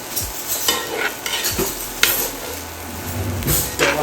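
A spoon scraping and stirring Louisiana dirty rice with pork sausage in a pot, with repeated scrapes against the bottom over a light sizzle, close and fairly loud.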